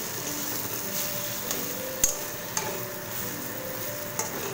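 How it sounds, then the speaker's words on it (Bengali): Taro paste being stirred in a wok while it cooks down, a steady soft scraping and low sizzle with a few sharper clicks of the spoon against the pan, close and continuous with no talk. "একটু মাঝে মাঝেই ঢাকনা খুলে আপনারা সমানে কিন্তু এইভাবে নাড়তে থাকবেন।"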